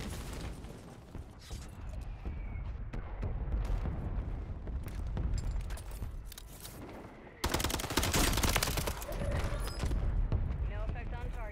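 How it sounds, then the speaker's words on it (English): Bombs dropping and bursting in a shooter video game, with rumbling blasts and rapid gunfire clatter, then a sharp, louder barrage near the end, dense and continuous. "Drop bombs on them."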